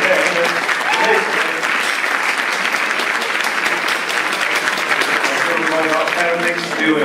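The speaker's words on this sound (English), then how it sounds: "let's give yourself a big round of applause for coming there" An audience at a public talk breaking into a big round of applause, dense continuous clapping filling the hall with a few voices mixed in.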